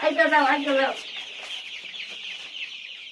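Five-day-old broiler chicks on a village farm give a short burst of high, overlapping clucks and cheeps, fairly close, before fading into softer background chirping and noise.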